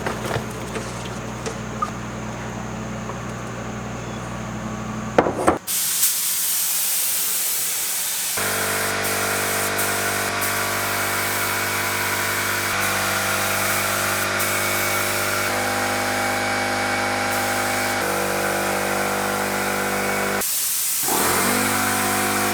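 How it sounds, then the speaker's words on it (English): A paint spray gun lays red base coat onto widebody over-fenders for an LS1-swapped BMW E36, giving a loud, steady compressed-air hiss that runs for long stretches with brief pauses between passes. "Same paint gun I used to paint the engine bay."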